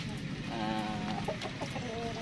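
Chickens cluck and murmur nearby over a steady background hum, with several short overlapping calls.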